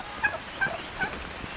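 Turkeys gobble three times in quick succession, close and fairly loud, with a faint outdoor background.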